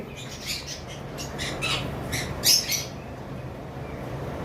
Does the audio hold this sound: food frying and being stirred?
no